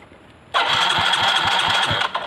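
A Yamaha Mio Soul GT scooter's electric starter cranks in one continuous whirring burst of under two seconds, close and fairly loud, with a faint rhythmic chug under it and no catch.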